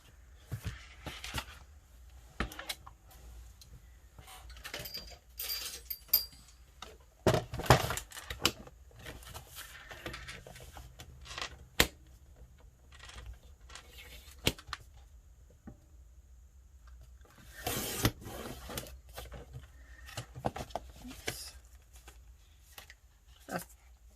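Paper cut for handmade journal ephemera: sparse, sharp snips and crisp crinkles, mostly faint and close, arriving in irregular bursts with quiet gaps between them.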